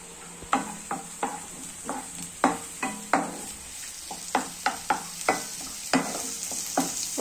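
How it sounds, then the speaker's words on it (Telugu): Onions, garlic and green chillies frying in a pan make a steady close sizzle, punctuated by a quick run of rhythmic spatula scrapes and knocks against the metal, with no voices. "ఒక 1 నిమిషం వరకు ఇలానే ఫ్రై చేస్తున్నాం"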